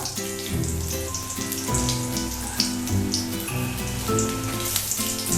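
Whole garam masala and dried chillies sizzle in hot oil for a chicken korma, a steady, close crackling hiss that holds throughout without pause.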